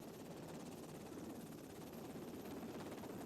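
Helicopter rotor noise, a steady broadband roar with a fast chopping pulse, as the aircraft comes in to land on a ship; loud and continuous throughout with no talk.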